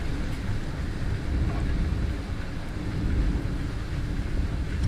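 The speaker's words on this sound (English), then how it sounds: "Every fucking time I want to do something, it starts raining" Steady rain falling outdoors, a dense, even hiss with a low rumbling wash that runs unbroken for several seconds, with no voices.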